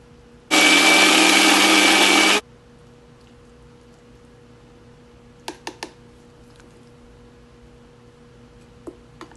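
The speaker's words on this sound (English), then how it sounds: "Then all this put into the mixie and then grind it softly." Mixer grinder briefly whirring at full power for about two seconds as kitchen ingredients are ground, followed by a quiet room with a low hum and a few light clicks and taps.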